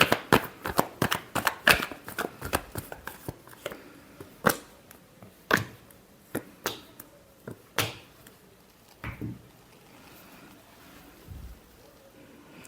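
Tarot cards are shuffled by hand close up, giving quick rapid riffles at first and then slower scattered slaps and flicks. The sound fades toward near silence at the end, and no one speaks over it.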